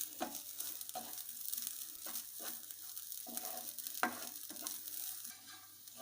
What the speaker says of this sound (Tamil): இது வந்து கிரேவிங்கிறதுனால தேங்காயை நல்லா வறுத்து அரைச்சிக்கலாம்.